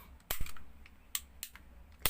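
Hammer of an EMG Pit Viper airsoft pistol snapping: several sharp, quiet metallic clicks in quick, uneven succession, with a final crisp snap at the end.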